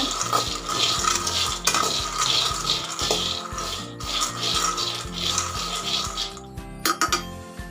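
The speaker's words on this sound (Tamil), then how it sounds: "லோ ஃப்ளேம்லேயே வச்சு அப்பப்போ நல்லா இது மாதிரி கலரி கலரி விடுங்க" Peanuts dry-roasting in a pan over a low flame as they are stirred, giving close, loud, rhythmic scraping and rattling strokes that repeat steadily, with a few clinks near the end.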